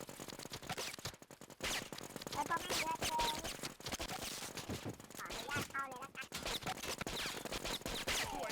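Rapid machine gun fire bursts crackle almost continuously, loud and dense, in a shooting video game, with a voice talking briefly underneath.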